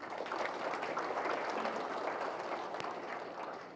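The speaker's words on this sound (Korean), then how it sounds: "이쯤에서는 저기 박수가 나와야 되는 건데." An audience at a city government executive meeting in Incheon breaks into applause, a dense, even patter of many hands clapping at moderate distance that fades slightly toward the end.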